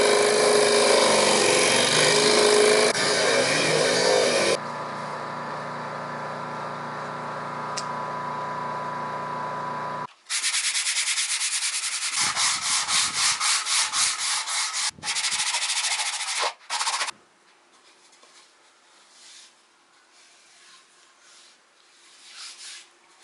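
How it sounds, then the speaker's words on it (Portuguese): A disc sander rounds the edges of wood for a phone speaker box, a rough rubbing whine that shifts in pitch, then several short bursts of sanding before the motor winds down. "agora nós vamos arredondar aqui as pontas, tá? Eu vou usar na lixadeira aqui de disco mesmo"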